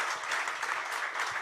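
An audience at a corporate research report launch applauds in a dense, steady burst of many hands clapping together, loud and unbroken from start to finish.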